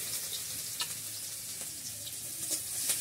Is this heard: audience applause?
no